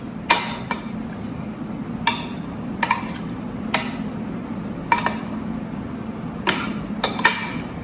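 Potatoes mixed in a bowl, a spoon knocking sharply against the bowl in irregular clinks about once a second over a steady soft scraping, close and clear with no talk.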